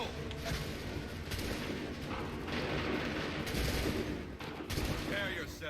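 Musket volleys in the video game Assassin's Creed 3, heard as dense, continuous rolling gunfire and booming blasts that keep up steadily throughout, with a voice briefly audible underneath the battle noise.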